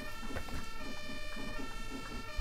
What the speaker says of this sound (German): Also nie so viele Krankenwagen hier.